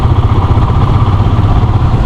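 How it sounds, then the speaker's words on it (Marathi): A motorcycle engine, push-started after the self-starter failed and still losing power, runs loud and close with a steady, throbbing idle and no voices. "सेल्फ स्टार्ट घेत नाही आहे, सो धक्का मारून स्टार्ट तर केली आहे."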